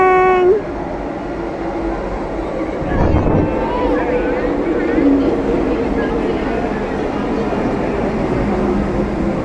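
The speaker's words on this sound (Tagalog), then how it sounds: "The train is coming." A train pulls into the station at Hong Kong Disneyland, its steady rumble and rail noise swelling midway through and carrying on under busy crowd chatter and nearby voices.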